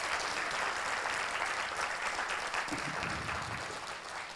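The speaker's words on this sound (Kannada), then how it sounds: "ಎಷ್ಟು ಚಪ್ಪಾಳೆ ತಟ್ಟ್ರಿ ನಿಮ್ಮ ಮೇಲೆ ಬಿಟ್ಟದ ಅಷ್ಟೇ." Audience applause at a World Stroke Support Day event in 2019: dense, steady clapping from a large crowd filling the whole stretch, easing slightly toward the end.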